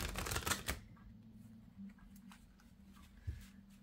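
Tarot cards shuffled and laid down: a brisk close burst of riffling card noise, then quieter soft slides and a light tap as a card is placed, with a faint hum underneath.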